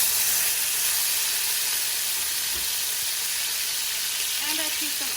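Tomatoes sizzle in about two tablespoons of hot oil in a skillet for tomato-onion-garlic taco salsa, a steady broadband frying hiss held throughout, with a few faint clinks and stirring touches near the end.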